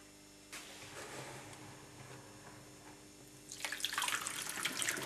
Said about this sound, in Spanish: tendremos que volver otra vez a rellenar de agua y volver otra vez a separar